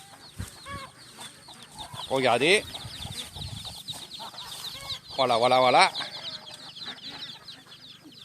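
Ducks on a farm in Isan, Thailand let out two loud, harmonic bursts of calls a few seconds apart, with someone speaking French close by between them.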